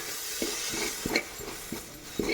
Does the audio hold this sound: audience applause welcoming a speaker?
no